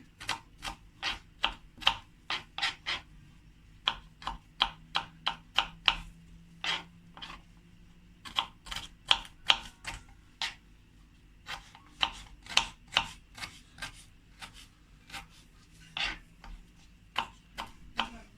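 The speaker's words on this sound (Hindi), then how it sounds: "इसको फटाफट से हम चॉप कर रहे हैं।" A knife chops bell peppers on a cutting board. Quick, crisp taps come in rhythmic bursts with short pauses between runs, close and clear against a quiet background.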